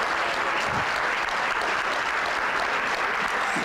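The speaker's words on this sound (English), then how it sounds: "Would you just join me and give them a round of applause, please?" At a Martin Luther King celebration at a community center, an audience applauds the board of directors, with steady, full clapping throughout the short stretch and no talking over it.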